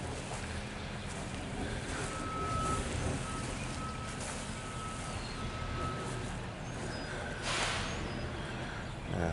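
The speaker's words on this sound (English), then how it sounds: "sounds like there's construction going on" Faint, steady reversing beeps from a construction vehicle sound in the distance beside a cemetery, repeating evenly under constant wind and low background rumble.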